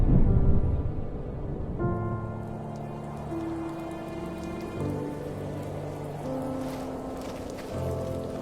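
Steady rain patters on a surface, with sustained musical tones layered over it and no voices.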